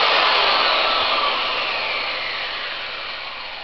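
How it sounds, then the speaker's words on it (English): An angle grinder fitted with a flat disc sands excess wood from a new axe handle, a loud, close, steady high whirring hiss that slowly fades slightly, no talk. "use an angle grinder and a flat disc and just sand off the excess"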